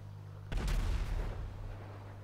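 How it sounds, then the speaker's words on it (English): An explosion in the video game GTA V hits as one sudden, loud boom, then rumbles and fades over a steady low hum of game audio. "That explosion is instant."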